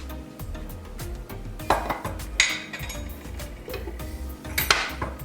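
A potato patty mixture with Italian breadcrumbs is stirred in a bowl, giving a steady scraping and knocking of utensil against the bowl with a few sharper clinks, close and moderately loud.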